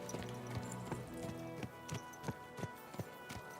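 Horse hooves clip-clop along at a steady walking rhythm in Kingdom Come: Deliverance II, fairly close and moderately loud, with a soft game ambience underneath and no talk.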